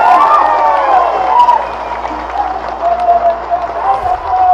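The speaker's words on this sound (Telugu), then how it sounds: "ఒకసారి గట్టిగా చప్పట్లతో వారికి మనందరం అభినందన చెప్పాలి" A crowd claps and cheers at a political rally in Kodangal, a dense wash of applause running under a loud amplified voice.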